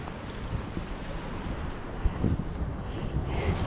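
Sea waves roll and wash along a rocky coastline of lava, a rough continuous roar mixed with wind buffeting the microphone, and a slightly stronger surge near the end.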